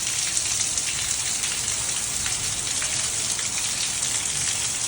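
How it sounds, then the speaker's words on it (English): Steady rain falling outside onto a street, a dense continuous hiss of drops hitting surfaces, even and close with no voices. "I guess it's raining a little bit."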